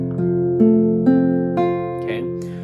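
Guitar strummed in an E-shape major barre chord with the index finger across all six strings, struck about five times in a steady rhythm, each chord ringing close and clear before the next.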